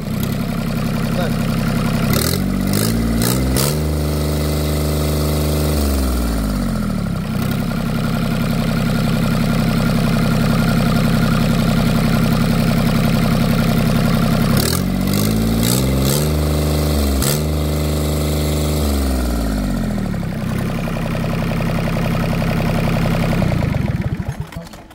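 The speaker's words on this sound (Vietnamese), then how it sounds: "máy nổ rất là êm quá nha" A Yanmar 3T66 diesel engine runs with a steady, even idle throbbing, twice rising in pitch as it is briefly revved before settling back to a smooth idle, loud and close throughout.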